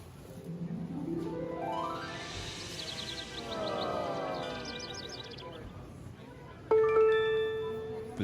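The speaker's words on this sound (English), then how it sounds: "There's that bell noise." Rising and falling synthetic swooping tones play, then a single bell-like chime strikes near the end and rings out as it slowly decays.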